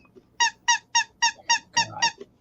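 A squeaky vintage dog-themed toy squeezed seven times in a quick, fairly even rhythm, each squeak sharp and high-pitched, close up with no talking over it.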